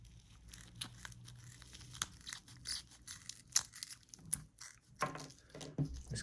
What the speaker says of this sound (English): So this is a self-adhesive Velcro strip